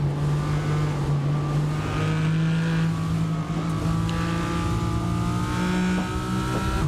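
Onboard engine of a GT3 race car in an esports endurance race at COTA drones steadily through a long right-hand corner, close and loud with a held, mildly varying pitch and no talk.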